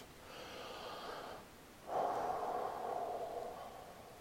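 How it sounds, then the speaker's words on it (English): Deep meditative breathing close to the microphone: a long airy inhale, a brief pause, then a stronger, throatier exhale that slowly fades, alone with no talking. "So that's 3 breaths that I just took."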